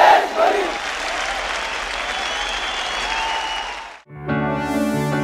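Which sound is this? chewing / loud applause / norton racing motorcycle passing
loud applause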